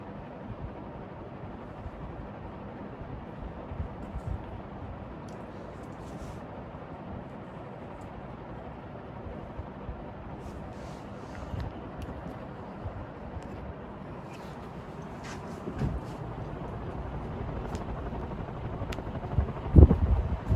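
A Brown New Fan industrial ceiling fan runs on high speed, giving off a steady low broadband whoosh of moving air with a faint rumbling churn and occasional small ticks.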